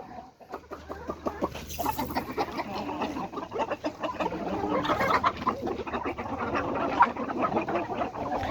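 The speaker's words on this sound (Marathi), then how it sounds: "कशा प्रकारे कोंबड्या एकत्र येतात पहा या ठिकाणी" Many chickens cluck and squawk together in a dense, busy chorus, close by and steady throughout.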